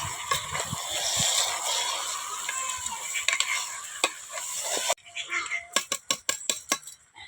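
Country chicken curry with turmeric being stirred in a hot pan under a bright, steady sizzle, with scraping strokes and clinks close by. Near the end the sizzle drops away and sharp, separate knocks of the utensil against the pan follow.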